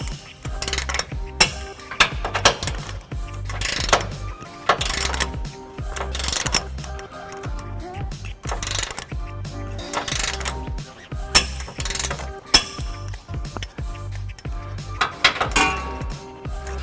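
Close ratchet clicks tightening trailer hitch bolts on a 2014 Nissan Titan, repeated bursts of rapid metallic ratcheting with short pauses and occasional clinks.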